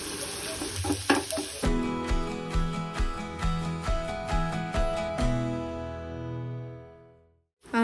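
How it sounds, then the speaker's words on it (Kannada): Chopped onion hits hot oil in a tempering of garlic and chillies for spinach chutney, giving a loud steady sizzle with rhythmic stirring scrapes for several seconds before trailing off into near silence. "ಒಂದು ಆನಿಯನ್ ಏನು ಕಟ್ ಮಾಡ್ಕೊಂಡು ಇಟ್ಕೊಂಡಿದ್ನಲ್ವ ಅದನ್ನು ಹಾಕ್ಕೊಳ್ತಾ ಇದ್ದೀನಿ"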